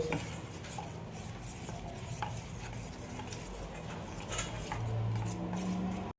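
Idli batter is stirred in a bowl for a fasting-day meal, giving a steady, close scraping and swishing that runs continuously with no talking.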